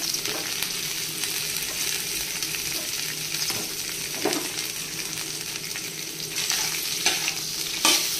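Cashews and raisins frying in oil with cinnamon stick and cardamom, a steady close sizzle with occasional crackles and stirring taps throughout.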